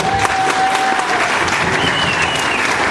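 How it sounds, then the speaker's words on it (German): A crowd claps steadily and densely for a few seconds, sustained applause with no pauses. "einen Applaus"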